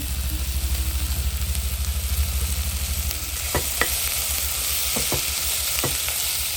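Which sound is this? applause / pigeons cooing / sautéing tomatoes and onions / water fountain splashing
sautéing tomatoes and onions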